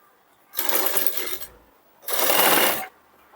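Two short bursts of a sewing machine stitching blouse fabric with tucks, each under a second long, a close, buzzy whir with a pause between them and quiet before and after.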